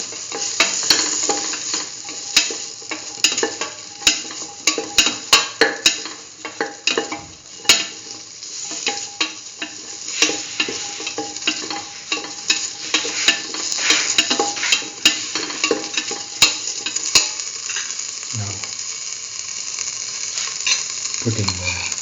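Vegetables sizzle in a frying pan while a utensil scrapes and stirs them, giving a steady hiss broken by close rhythmic clacks and scrapes that thin out toward the end.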